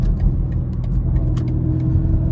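A Mercedes-AMG car rumbles nearby with a steady deep engine drone, overlaid by scattered sharp pops and crackles.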